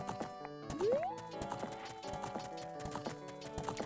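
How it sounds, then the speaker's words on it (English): Horse galloping in The Legend of Zelda: Ocarina of Time, rhythmic clip-clop hoofbeats layered under game music, with a brief rising tone early on. "I'm out running a horse right now."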